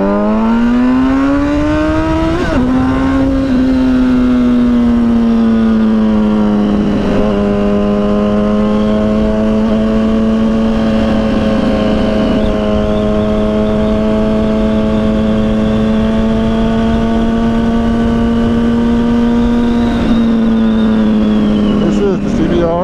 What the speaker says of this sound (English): This is the CBR 1000RR.